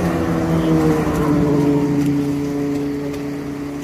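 A car engine runs at a steady, loud, sustained drone with a smooth hum, easing slightly toward the end, and no talking over it.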